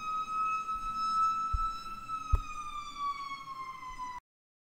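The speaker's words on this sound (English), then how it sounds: "can you guys hear the sirens?" A wailing siren holds a steady rising-and-falling tone outside, fairly loud, with a sharp knock partway through before it cuts off abruptly.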